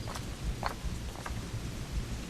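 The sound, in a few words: rain in the video game Assassin's Creed IV Black Flag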